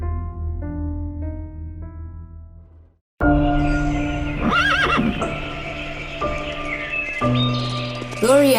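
Horses neigh and whinny near a riding stable in the woods, a loud rising-and-falling call near the end, with hoof clip-clops and chirping birds in the background after a brief silence.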